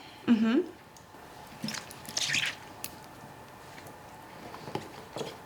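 Fermenting kimchi vegetables are pressed down into a jar, giving soft wet squishes and small squelches in a few short bursts, close and fairly quiet, with a brief voice sound at the start.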